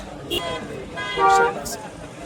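Vehicles honk in a crowded street near a medical college where people and media have gathered, a few short horn toots rising over traffic noise and a continuous murmur of people talking nearby.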